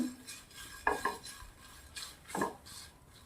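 Spices and chillies are stirred and roasted in a pan with a utensil, giving a few close scraping sweeps and clinks over a faint sizzle, soft and spaced out with no talking.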